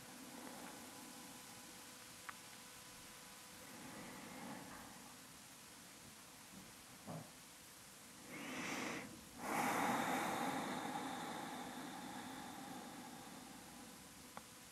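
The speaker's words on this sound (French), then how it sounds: "On prend encore quelques respirations ici." Soft, slow breaths during a gentle yoga twist session, faint against a steady hiss, with one louder, longer exhalation near the end and no speech.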